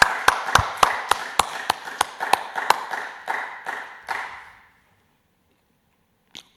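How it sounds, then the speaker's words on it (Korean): Church congregation at an early-morning service clapping hands together in a sharp, regular rhythm of about a dozen claps that slow and fade out, followed by silence and one faint final tap. "우리 하나님께 영광의 박수 한번 드리겠습니다."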